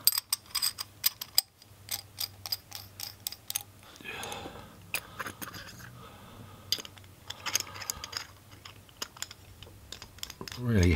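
Metal vape mod parts being screwed back together, sharp clicks and thread-turning ratchet sounds in irregular bursts, close up, with a few faint background noises.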